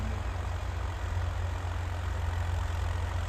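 A tractor engine idles steadily and close by, a continuous low rumble with no break and no talk over it.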